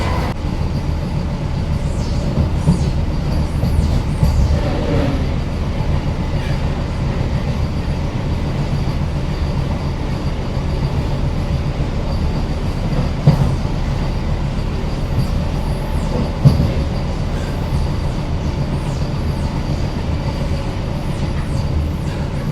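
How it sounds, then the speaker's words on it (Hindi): A Vande Bharat express runs at speed, its steady loud rumble and rail clatter filling the scene as it overtakes a Mumbai Tejas Rajdhani Express, with faint wheel squeals and rattles throughout. "अब आने वाली है मुंबई तेजस राजधानी एक्सप्रेस।"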